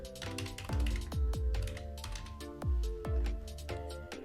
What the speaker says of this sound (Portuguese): vou digitar ali